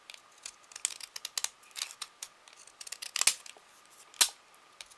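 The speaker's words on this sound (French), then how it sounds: "Alors ça c'est des ciseaux, avant je prenais ça pour vraiment des ciseaux de gosse" Decorative edging scissors snip around the edge of a piece of paper for a small ATC card wrapper, giving a close series of crisp, uneven cutting clicks with no talking.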